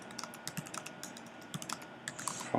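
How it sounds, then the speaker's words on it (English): Rapid, uneven keystrokes clatter on a computer keyboard while a file is typed in the nano editor, close and crisp with brief pauses between bursts. "Now I'm using nano editor and I'm typing"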